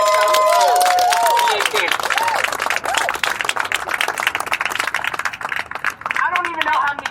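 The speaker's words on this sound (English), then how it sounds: "A round of applause again for the Patriots." A rally crowd applauds and cheers for the Patriots outdoors in Lauderhill, Florida, with a loud, continuous wash of clapping. A voice speaks over it and whistles stand out at the start.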